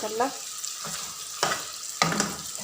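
Meat cooking with spices in a pan, a fairly close frying crackle with a few sharp stirring or scraping bursts spaced about half a second apart, no talk.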